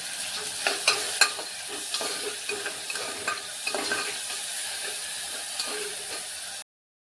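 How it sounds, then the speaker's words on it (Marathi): Chopped onion sautés in hot oil in a pan with a constant crackling sizzle, overlaid by repeated scraping taps from a stirring spoon, steady and close, ending abruptly in silence. "फक्त कांदा छान परतून घ्यायचा"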